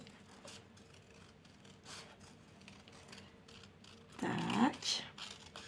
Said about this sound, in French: allez, je découpe celui-ci